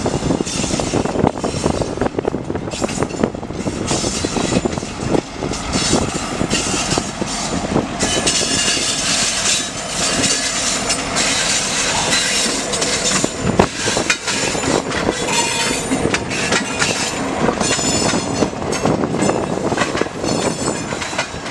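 A Union Pacific local freight train, led by a small switcher running long hood forward, rolls along a spur back toward the yard. Steady loud rumble and clatter of wheels and cars, close and continuous throughout, with no talk.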